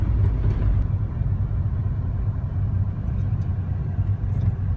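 A Nissan Cube, a right-hand-drive car, drives along a road in Cambodia, giving a steady low engine and road rumble that runs unbroken from start to finish without any speech.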